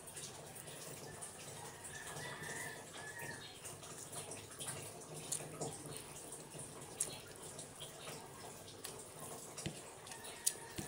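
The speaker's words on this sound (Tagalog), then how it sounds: "Habang naglalagay ko ng tubig sa washing machine" Tap water pouring steadily into a washing machine tub at home, a faint continuous splashing rush with small irregular drips and gurgles throughout.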